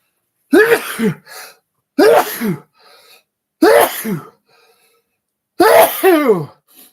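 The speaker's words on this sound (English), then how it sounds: "oh geez, I got a sneeze coming on" Four loud sneezes in a row, each a sharp burst followed by a softer trailing breath, close and alone.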